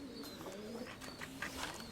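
Soft, low pigeon cooing repeats in a gentle rolling rhythm, close by, with faint bird chatter and background noise around it.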